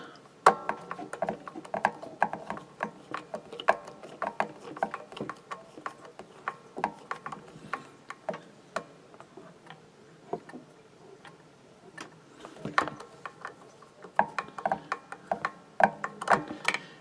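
An electric guitar tuning peg is turned to tighten the fifth string, giving a long run of close, dry ratcheting clicks and ticks in uneven bursts, with faint voice in places.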